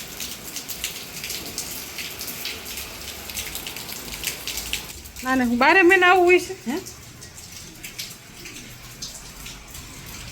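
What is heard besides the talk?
unseasonal rain falling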